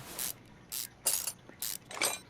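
A ratchet works on car suspension parts in the Car Mechanic Simulator 2021 video game, sounding as five crisp, evenly spaced bursts of rapid clicking, each lasting about a quarter second, with near silence between them.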